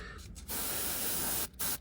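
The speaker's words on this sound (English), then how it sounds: "what we're going to do is use the airbrush" Airbrush spraying standard Vallejo black paint onto a tabletop miniature, a close steady hiss in two bursts with a short pause between them.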